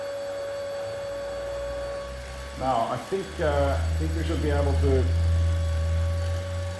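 Vacuum pumps on the FICS-X-FUSION fusion experiment rig run as a steady electrical hum with a low mechanical drone, continuous beneath someone talking nearby.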